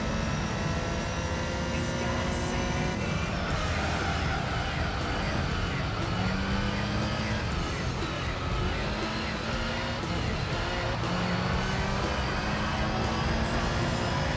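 A car engine drones steadily from the first-person driving view in Gran Turismo 3 on PS2, a continuous tonal hum with slowly shifting pitch throughout.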